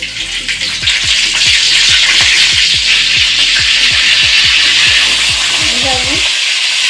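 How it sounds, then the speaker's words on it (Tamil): Curry leaves sizzling and crackling in hot oil for a Tamil-style pasta, a loud steady broadband hiss with repeated popping spatters throughout, ending abruptly. "அடுத்ததாக கருவேப்பிலை போட்டுக்கிறேன்."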